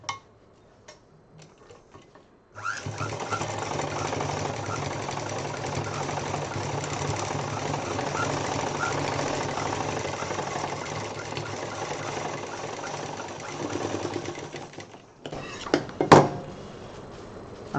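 A domestic sewing machine stitches a small fabric pouch, a steady close-up mechanical whir running for about twelve seconds, then stopping with a few handling clicks and taps.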